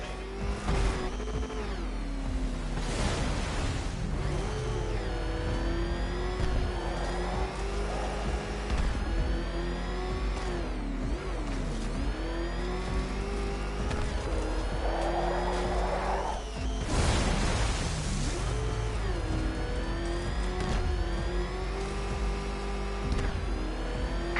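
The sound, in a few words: car engine revving in a Batman video game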